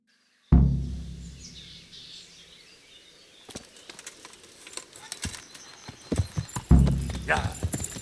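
Horse hooves clip-clop at a steady walking pace in the video game Kingdom Come: Deliverance, amid outdoor ambience with birds chirping and wings flapping now and then.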